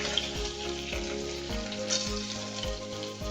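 Onion and tomato sauté in a pan with garlic and curry leaves, a continuous close sizzle over a low steady hum, with a few soft stirring knocks.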